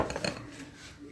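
Almonds are tipped into a kitchen bowl while making semolina laddoos, giving a few quick, close clinks and rattles that settle into a soft faint patter.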